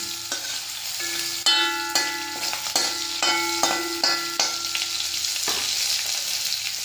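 Onions and chickpea curry fry in a pan with a steady sizzle, broken by repeated sharp scrapes and clinks of a spoon stirring against the metal, close and fairly loud.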